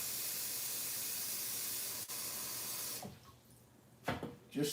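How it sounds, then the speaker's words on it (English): Water from a kitchen tap hisses steadily into a pot being filled for poached eggs, then the flow stops and a few short splashes and clatters follow. "let me just get some water"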